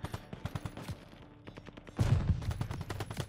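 Rapid bursts of automatic gunfire in the game Call of Duty Vanguard, close and loud, with rhythmic repeated shots that intensify in the second half.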